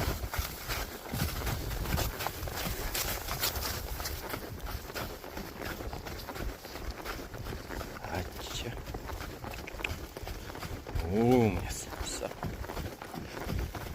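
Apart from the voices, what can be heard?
horse trotting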